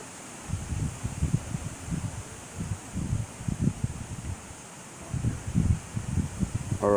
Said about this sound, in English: It did not get this windy until we got here.